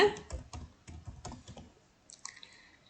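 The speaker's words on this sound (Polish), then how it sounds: "ja tutaj sobie wpiszę mój e, e-mail zupełnie nowy" Typing an e-mail address on a computer keyboard: a quick burst of close, crisp key clicks in irregular bursts, thinning out into a few sparse taps and a short higher tone near the end.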